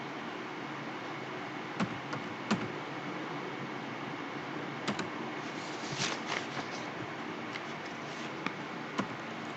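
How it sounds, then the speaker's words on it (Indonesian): A few scattered keystrokes click on a computer keyboard as a tar command is typed, faint sharp taps spaced irregularly over a steady hiss. "Langsung saja kita ketikkan dulu tar"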